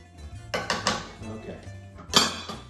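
Metal spoon scraping and clinking against a pot while scooping out pasta sauce for spaghetti and meatballs, several close clanks and scrapes with a louder clatter near the end and a voice speaking alongside.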